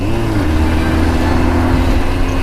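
A Corvette sports car roars past under hard acceleration, a loud, close, continuous engine drone with a slowly shifting pitch that fills the whole moment.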